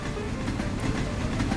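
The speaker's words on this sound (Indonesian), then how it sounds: "lihat kereta B-James melewati air terjun" A toy train modeled on the engine James from Thomas & Friends runs past a waterfall scene on its track, giving a continuous close rattling clatter and rumble with no pause.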